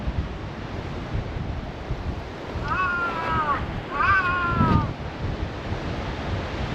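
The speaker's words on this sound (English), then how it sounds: "The wind's blowing pretty well." Steady wind and surf wash over rocks in Japan, with a few distant bird calls rising faintly partway through.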